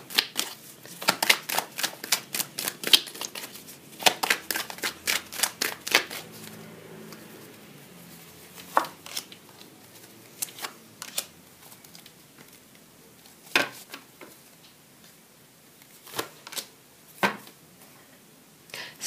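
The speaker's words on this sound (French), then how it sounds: "Je vais tirer 3 cartes supplémentaires sur ce tirage-ci." Tarot cards are shuffled and drawn close up: a quick run of crisp riffling flicks, a quieter stretch, then scattered single snaps and slides as cards are laid out, with no talking.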